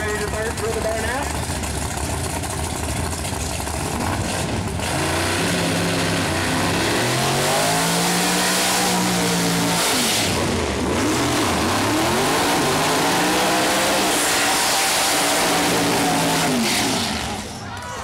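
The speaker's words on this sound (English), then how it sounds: "throwing up a lot of tire smoke there on the big burnout" Pro Mod drag cars at Mooresville Dragway roar through big burnouts, loud engines revving and wavering in pitch over the tire spin as a commentator talks throughout.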